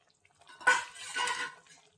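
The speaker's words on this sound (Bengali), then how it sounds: "এবার আমি এর মধ্যে দিয়ে দেব পটল আর আলু যেগুলো ভেজে রেখেছিলাম, সেগুলো আমি এর মধ্যে দিয়ে দিচ্ছি।" Fried pointed gourd and potato pieces tipped into a pan of yogurt gravy: a single soft clatter and wet slide lasting about a second, close and fairly quiet, then a short fading tail.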